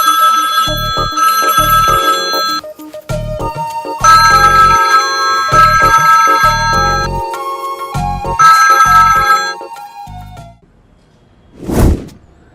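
A melodic electronic phone ringtone plays loudly in repeating phrases, then cuts off, followed by a single brief whooshing thud.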